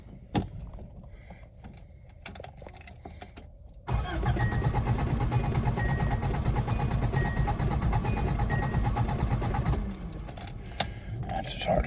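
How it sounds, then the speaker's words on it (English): A car engine cranks on its starter motor after a short pause with clicks and rustling, then grinds steadily for several seconds, with a repetitive turning-over rhythm, before cutting off. "That's as hard as I want to work the starter."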